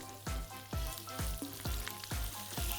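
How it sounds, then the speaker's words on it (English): Cumin and mustard seeds sizzle in hot oil as onions go in, giving a steady close frying hiss with repeated sharp pops and spatters about every half second. "So when you hear the mustard seeds starting to sizzle and pop, in go the onions."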